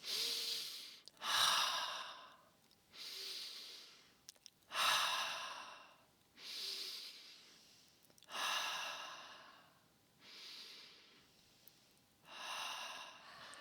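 Deep breathing exercise from an energy routine: seven slow, audible cycles of breath, each a long rushing exhale after an inhale, close and fairly quiet, evenly paced with short pauses and no talking.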